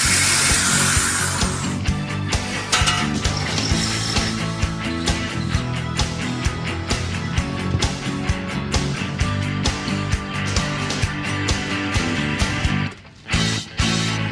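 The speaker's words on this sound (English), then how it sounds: "I'm gonna cut the pipes." Power tool cutting through car exhaust pipes on a Plymouth Road Runner in a garage, a loud steady grinding whine with scraping bursts that runs almost the whole time, briefly dropping out near the end.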